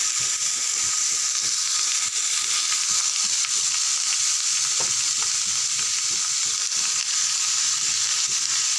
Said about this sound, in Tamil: நல்லா ஒரு 2 செகண்டு எண்ணெயில் வதங்கட்டும்